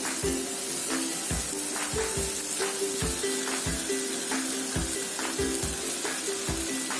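Fish sizzling steadily in a pan for Kerala-style fish biryani, a continuous close hiss with faint stirring or scraping accents, with no talking.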